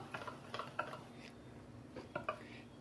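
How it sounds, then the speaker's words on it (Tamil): Eggless cake batter of flour and milk being mixed in a bowl, faint clinks and taps of a utensil against the bowl in short irregular bursts, quiet and close. "மாவு சேர்த்ததுக்கு அப்புறமா நல்லா இந்த மாதிரி மிக்ஸ் பண்ணிக்கணும்."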